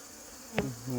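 Honey bees buzz at an open hive while it is worked beneath the brood area, a faint steady hum with one brief closer buzz as a bee passes near.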